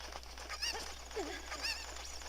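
A cucco chicken in The Legend of Zelda: Ocarina of Time 3D gives a few short, squawky clucks, quiet and spaced apart over a soft background.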